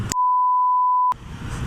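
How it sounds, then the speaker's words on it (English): A Suzuki Bandit 1250S motorcycle horn gives one steady, loud, pure-toned beep lasting about a second, cut off abruptly, with road noise around it. "just beeped someone by accident"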